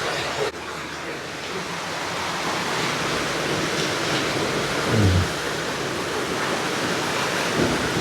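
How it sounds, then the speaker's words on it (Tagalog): Heavy downpour at a newly built house with a terrace, a loud, broad, unbroken roar of rain throughout, with a brief low thump near the middle and no clear thunder. "Grabe ang ulan."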